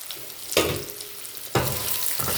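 Boiled, cut tapioca frying in a pan with a pinch of turmeric, giving a steady close sizzle with two sharp bursts of louder crackle as the pieces are stirred.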